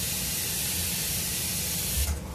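Airbrush spraying paint for a speckle effect, a steady close broadband hiss of air and paint that holds evenly for about two seconds before easing slightly at the end.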